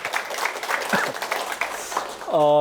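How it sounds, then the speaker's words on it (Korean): A lecture audience claps in scattered, uneven bursts at moderate loudness, with a few voices mixed in, before a sustained tonal sound rises at the very end. "박수 좀 부탁합니다"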